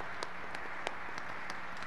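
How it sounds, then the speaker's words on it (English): A congregation at a Catholic Mass gives a brief round of applause, heard as faint, sparse, scattered claps in a large room. "How about a round of applause?"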